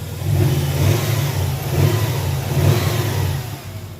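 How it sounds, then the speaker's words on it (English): A 2.0-liter JDM 1998 Subaru Legacy wagon engine runs close by at a steady, even idle with a slight swell in revs, heard alone. "start up the engine. It looks good. Nothing that off the groove. Everything runs smooth."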